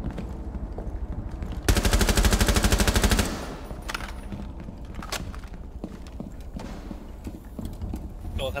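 Gunfire in Rainbow Six Siege on the yacht map, a sharp burst of rapid automatic shots in the middle with scattered quieter shots and clatter around it.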